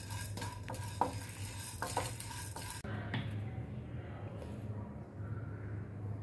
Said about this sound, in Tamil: அடுப்பை சிம்மில் வச்சுட்டு பொன்னிறமாக வறுத்துடுங்க